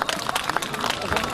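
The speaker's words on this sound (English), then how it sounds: "Clap your hands for female children." Guests clapping their hands at a 50th wedding anniversary and birthday celebration, a dense burst of applause with crowd voices and chatter mixed in, close and steady for a brief moment.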